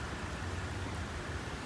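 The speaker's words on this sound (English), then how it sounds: "The rain has calmed down a bit." Light rain falls at a train station as a steady, even hiss of broadband noise, soft and continuous with no talk.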